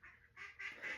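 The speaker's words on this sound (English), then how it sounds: "Hope you guys can hear the ducks in the background." Ducks quack faintly in the background in a few quick, nasal calls close together, with no one talking over them.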